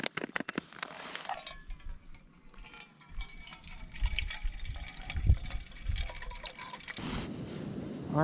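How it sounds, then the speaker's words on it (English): Water is poured into a small camping pot outdoors to rehydrate a beef taco trail meal, a steady liquid trickle with faint drips and light handling clatter nearby, no talking. "Gotta add 6 ounces of water."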